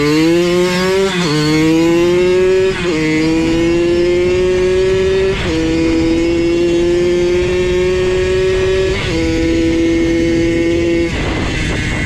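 A rebuilt Suzuki PV50 two-stroke motorcycle engine revs repeatedly, close and loud, each buzzy climb in pitch followed by a drop, in a series of blips and held revs with no talking.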